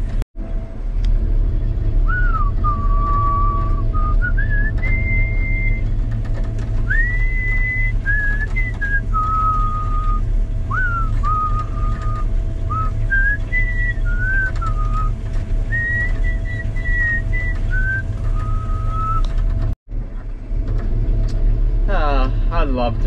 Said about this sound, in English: I would love to become a professional whistler